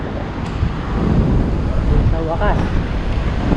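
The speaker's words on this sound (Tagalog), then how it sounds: "Malakas na yung hangin" Gusty wind buffets the microphone in a continuous low roar while a voice speaks briefly over it.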